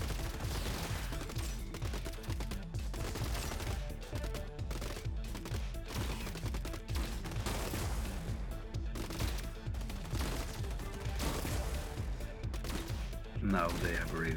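Machine-gun robots fire in the Gladiabots game, producing continuous rapid bursts of automatic gunfire that go on without a break at a steady loud level.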